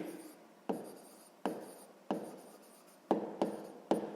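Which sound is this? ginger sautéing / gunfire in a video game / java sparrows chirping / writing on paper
writing on paper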